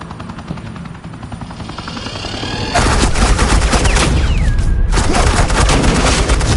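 Heavy suppressing gunfire in the Batman: The Enemy Within game, a sustained loud rattle of automatic shots that surges in after a quieter build-up of rumbling and whirring, with a helicopter-like drone underneath and no talking.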